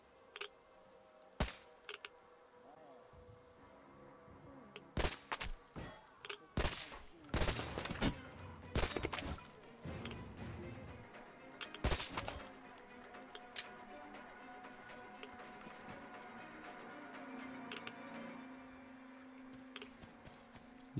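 Gunfire in Metro Exodus comes as a string of sharp, fairly quiet cracks and short bursts, with a few metallic clinks between the shots. A low background hum runs underneath.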